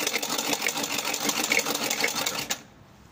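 A sewing machine runs steadily as it stitches along the edge of a strip cut from old cloth, a fast even whir with a rapid needle rhythm that stops abruptly near the end, leaving quiet.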